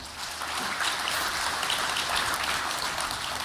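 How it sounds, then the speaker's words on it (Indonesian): An audience at the inauguration of a Merah Putih village cooperative applauds steadily, with dense, even clapping that stays loud and continuous throughout, and no one speaks over it. "Boleh tepuk tangan yang meriah"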